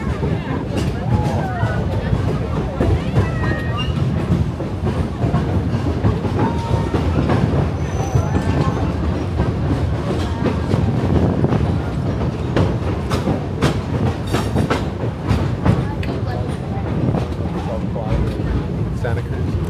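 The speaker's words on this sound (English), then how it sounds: "Our train will now be crossing the 70-foot tall Powder Creek Trestle, viewable from both sides of the train" A Roaring Camp Railroads train rolls across the 70-foot-tall Powder Creek Trestle near Santa Cruz, its steady rumble and rail clatter continuous and close throughout, with people talking over it.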